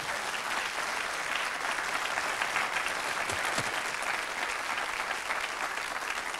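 An audience applauds steadily, a dense, continuous clapping that holds at even strength from start to finish with no talk over it.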